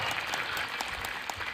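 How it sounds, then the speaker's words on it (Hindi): An audience at a religious talk claps steadily, with dense, even applause all through the short moment and no break. "जो लोग ताली बजा रहे हैं"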